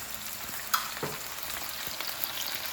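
Steady soft sizzle of chicken frying in a pan, with occasional faint pops and clicks, close but quiet, with no voices.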